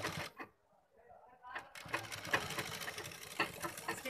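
Sewing machine stitching a fabric neckline, a quiet close mechanical whir in short runs with brief stops between, with soft handling noise of the fabric.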